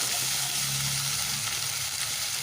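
Ginger paste sautéing with potatoes in a pan for a cauliflower and tilapia curry, a steady close sizzle with light stirring and a brief low hum early on, no voices.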